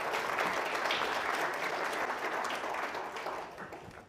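Audience applause at a House of Delegates meeting, a steady crowd clapping that holds for several seconds before tapering off at the end.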